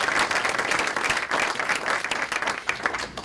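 Audience at a Multnomah County commissioner swearing-in ceremony claps enthusiastically, a loud, dense and continuous burst of applause from a full room.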